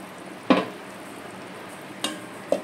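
A lid is set onto a cooking pan of papaya with fish head over a low gas flame, giving one sharp metallic clank followed by two softer taps against a quiet background sizzle.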